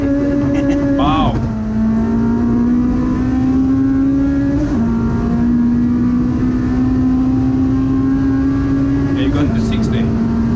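A K24-swapped Honda CRX on a drag strip at Saldanha: a loud engine holds a steady high-revving drone, a quick dip and rise at each gear change, and it pulls hard throughout under the wind and track noise.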